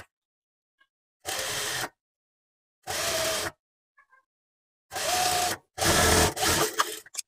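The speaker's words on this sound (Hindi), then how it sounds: "अब हम यहाँ पे सिलाई लगाएंगे" A sewing machine stitches a seam on a sleeveless blouse in four short bursts, each lasting about half a second to a second, separated by quiet pauses. The last two bursts come close together.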